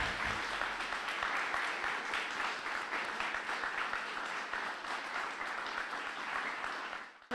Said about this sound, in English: Why don't we give all of our poets another round of applause?